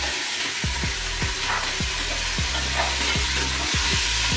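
Beef sizzles and crackles in hot oil with bay leaves in a pan, a loud continuous frying hiss broken by regular scraping stirs, close up with no talk.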